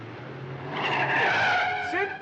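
Tires squeal as a car skids during a chase in a 1962 comedy film, a loud screech that rises and holds for about two seconds, with voices briefly heard alongside.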